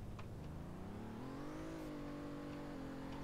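A car drives in the Roblox game Greenville, its engine a steady whirring drone that rises in pitch as it accelerates, then levels off, heard alone and fairly close.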